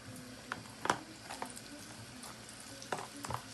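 Blue snapper fish fries in hot oil in a pan, giving a faint, steady sizzle broken by occasional clacks and scrapes of stirring nearby.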